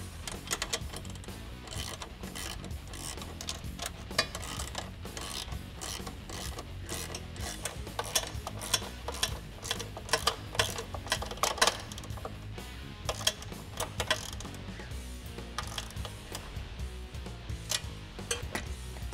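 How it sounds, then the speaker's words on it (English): Two bolts on a Jeep Wrangler JL side-step bracket at the pinch weld, tightened with a 10mm socket ratchet and wrench, giving rapid repeated close clicking of the pawl in bursts, with no speech. "Now we can grab a 10mm socket as well as a 10mm wrench and tighten down the 2"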